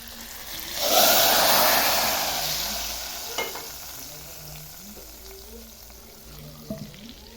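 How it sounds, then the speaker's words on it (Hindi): Hot tadka tempering poured into cooked mung dal, giving a loud burst of sizzling and frying that swells suddenly, then settles into a softer steady crackle with a few faint clinks of a utensil near the end. "हो चुका है तड़का, तो अब हम इसको डाल देंगे दाल में"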